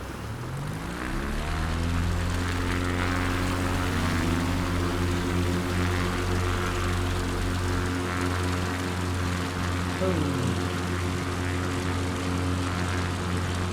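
Propeller engine of a light bush plane in Alaska at full throttle in Microsoft Flight Simulator 2020, a loud steady drone with a rising pitch early on that holds on a strong harmonic hum for the whole stretch, with no talk.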